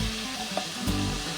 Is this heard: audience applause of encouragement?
no